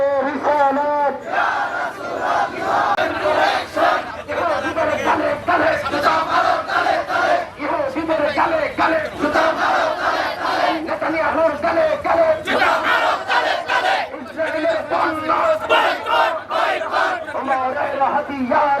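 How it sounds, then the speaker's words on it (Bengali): A large crowd loudly chants the Nara-e-Takbir religious slogan in rhythmic unison, voices rising in repeated surging calls at a Bangladeshi rally protesting attacks on Palestine, sustained and close throughout. "স্লোগান একটু আওয়াজ দিয়ে দিতে হবে নারায় তাকবীর নারায় তাকবীর"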